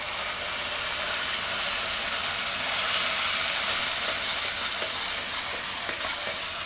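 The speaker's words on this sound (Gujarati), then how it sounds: "તરત એમાં નાખી દઉં આપણે આ ડુંગળીની પેસ્ટ." Onion paste hits hot oil in a pan and sizzles loudly, a bright, continuous hiss with occasional scraping stir strokes, steady and close without any talking.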